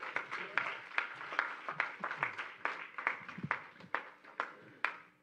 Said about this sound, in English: why don't you give the Lord a hand clap of praise?